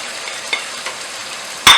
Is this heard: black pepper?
yes